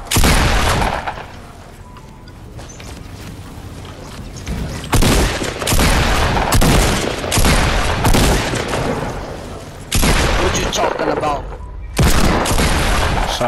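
Dense Fortnite gunfire in a Battle Royale match: bursts of rapid, loud shots come in clusters separated by short lulls, with booming impacts among them and a player talking over the shooting.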